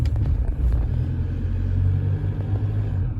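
A Toyota Hilux diesel engine idles close by with a low, steady rumble and an irregular hammering rattle running through it.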